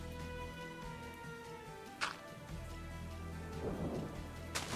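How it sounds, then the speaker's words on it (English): Rain and thunder from a thunderstorm in modded Minecraft, a steady rainfall hiss with a low rumble of thunder, heard faintly alongside layered background music tones. "Oh, it's a thunderstorm."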